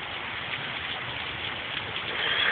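Heavy rain falls steadily in bad weather, making a dense, even hiss that holds at one level throughout with no talk.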